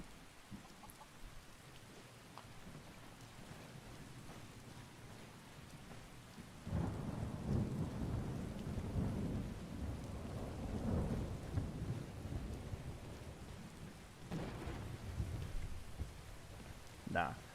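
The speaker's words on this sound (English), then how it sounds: "Raining. The rain washes some of the dirt and blood away." Rain and thunder in the video game Skyrim, steady rainfall with deep rolling thunder swelling midway and again near the end, heard alone.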